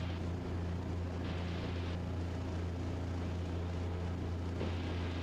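Steady low drone of the engine on the Raptor prototype aircraft, a constant hum with a strong low tone and a rough rattling texture, heard from inside at moderate level with no break.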